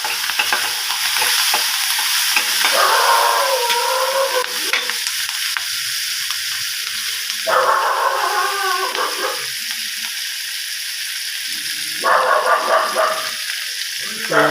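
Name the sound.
green chili, onion, bay leaf, dried chili frying in pan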